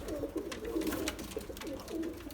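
Pigeons coo softly in a repeated, rolling murmur, close by and fairly quiet, with no talking.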